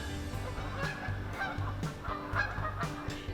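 Geese honk repeatedly outdoors in a woodland where morel mushrooms are being hunted, several loud, nasal calls in an uneven rhythm over about three seconds, close by and clear with no talking.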